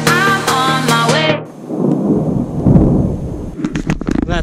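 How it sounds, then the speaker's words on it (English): During a storm on the Inca Trail, a deep, loud roll of thunder rumbles and crackles close by after a stretch of music, with rain-like noise underneath. "That thunder was so loud. Feels like you're in the middle of the storm."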